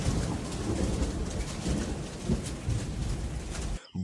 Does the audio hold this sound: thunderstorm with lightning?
yes